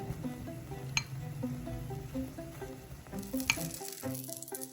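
Ghee sizzles on an egg paratha frying in a pan, a steady crackling hiss with a few faint clinks and scrapes, fairly quiet and close.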